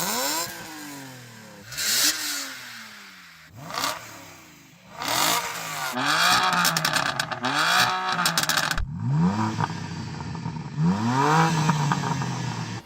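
BMW M car engine revved repeatedly, a series of sharp throttle blips rising and falling in pitch, spaced apart at first then coming in quicker, denser bursts with crackling on the overrun, no talking.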